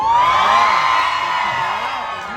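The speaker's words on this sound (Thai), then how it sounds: "ขอเสียงกองเชียร์หน่อยเร็ว" A crowd of supporters at a Charlie Gamin event at HomePro Future Park Rangsit lets out a loud, sustained cheer and whoop of many voices that holds for a couple of seconds and tapers slightly.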